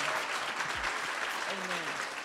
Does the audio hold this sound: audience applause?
yes